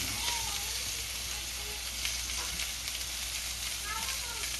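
Scallops sear in a hot pan, browning with a steady crackling sizzle throughout, close and fairly loud, with a voice faintly present at times.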